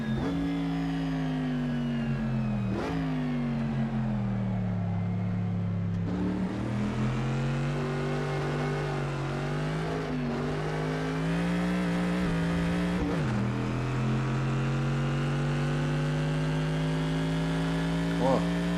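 Ford Capri historic race car engine in Assetto Corsa sim racing, a loud, steady droning note that drops sharply on shifts and climbs again, with someone talking over it.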